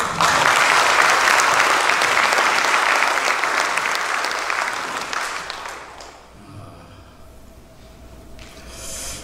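A church congregation claps in a full, dense burst of applause that holds for several seconds, then tapers off into quieter room sound.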